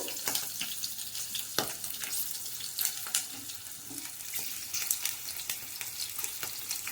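Green chilies and coriander seeds frying in hot oil in a pan, a steady close hiss and crackle with small pops scattered throughout.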